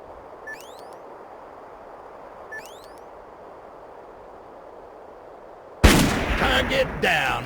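A single sniper rifle gunshot in the video game Darkest of Days rings out sharply and loudly after a quiet stretch broken by two faint chirps, then echoes into a booming tail.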